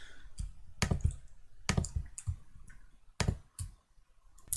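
Sharp computer mouse clicks while selecting edges in FreeCAD, several crisp close clicks in irregular pairs and singles, quiet and with no talk.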